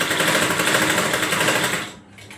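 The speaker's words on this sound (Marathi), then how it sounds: "चारही बाजूना शिलाई मारून घ्यायची." A sewing machine stitches a frock in a rapid, steady mechanical whir, close and loud, stopping abruptly near the end.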